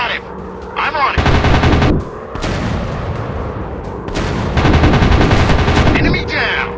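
Continuous machine gun bursts rattle loudly in a WW2 dogfight game with F4F Wildcat and SBD Dauntless planes, long sustained volleys separated by brief gaps.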